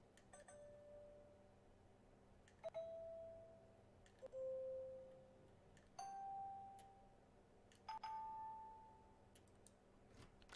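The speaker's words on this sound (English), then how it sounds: "I don't think I'll ever remember which of the doorbells is hers." Doorbell chimes in the video game League of Enthusiastic Losers on Nintendo Switch, about five separate ding tones spaced a couple of seconds apart, each a clear electronic chime fading out over a quiet background.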